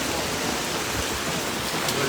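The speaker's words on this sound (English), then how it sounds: "it's raining" Rain falls steadily at an outdoor protest in Sydney, a dense, even hiss of drops close by with no pauses.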